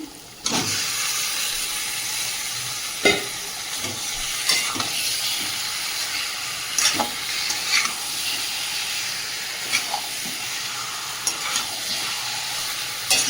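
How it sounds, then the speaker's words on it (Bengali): Marinated meat hitting a pan of spice paste cooked down in oil, a loud steady sizzle running throughout with scattered scraping stirs and clacks of a utensil, no voices. "এই পর্যায়ে ম্যারিনেট করা মাংসগুলো দিয়ে দেবো"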